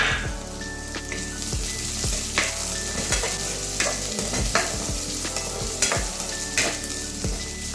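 Sliced onion sautés in a pan for a snake gourd and lentil stir fry, with a steady close sizzle broken by repeated scraping stirs of a spoon against the pan.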